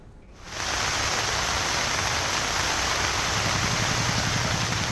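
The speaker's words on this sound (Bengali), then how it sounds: "কখনো মুষলধারে, কখনো হালকা ঝিরিঝিরি বৃষ্টি, মাঝে মধ্যে ভারী বর্ষণ" Steady, dense hiss of heavy rain that swells in after a brief quiet moment, then holds constant and loud throughout.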